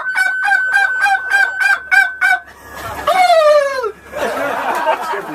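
A man imitates turkey calls, first with a rapid string of sharp yelping clucks, then a drawn-out warbling gobble, loud and close with nothing else behind it.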